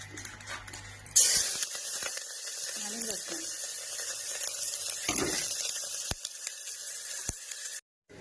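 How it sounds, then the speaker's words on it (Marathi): Onion and green chilli are dropped into hot oil in a home kitchen pan, setting off a sudden loud hiss that settles into a steady close sizzle, with a few utensil clinks. "आता मी टाकते कांदा हिरवी मिरची"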